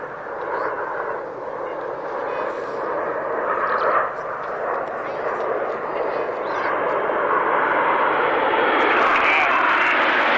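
At a 1999 airshow in Woodford, a solo display aircraft peels away from its formation for a Snyder turn, a continuous broad engine roar that holds steady and swells slightly toward the end, with an announcer talking over it.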